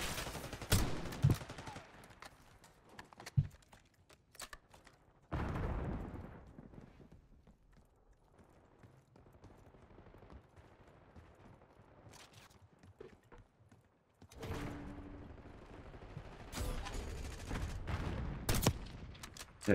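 Shotgun fire in Black Ops 6 multiplayer, several sharp gunshot blasts scattered among quieter stretches of in-game footsteps and ambience, with bursts of heavier firing near the start and the end.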